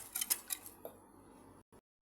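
A spoon scrapes and clinks in a pot as rice and milk are stirred together, giving several sharp close metallic taps at the start that then fade into quieter scraping before a brief final knock and silence.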